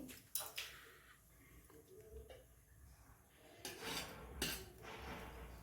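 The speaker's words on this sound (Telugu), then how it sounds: "ముందుగా స్టవ్ ఆన్ చేసుకుని కళాయి పెట్టుకుని" A kadai pan set down on a stove gives a few close metallic clanks and scrapes, with quiet handling rattles in between.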